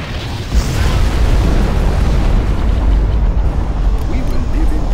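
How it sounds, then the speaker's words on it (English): Nuclear missile blast in the strategy game Command and Conquer Generals Zero Hour erupts as a heavy, sustained rumbling roar with deep booming crackle that stays loud throughout. "We have launched our nuclear missile."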